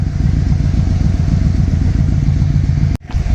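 A 1996 Yamaha Royal Star Tour Classic, a garage find running on a weak battery, idles close by with a steady, loud pulsing engine chug, briefly cut by a sharp click and dip near the end.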